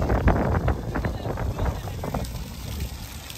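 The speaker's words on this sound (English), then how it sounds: "And now it got windy." Gusty wind buffets the microphone in rough, uneven bursts during a Detroit Diesel Series 60 turbo removal, loud and close, easing off toward the end.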